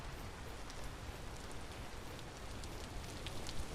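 Steady rain patters softly in the video game Vintage Story, an even hiss of drops with no let-up.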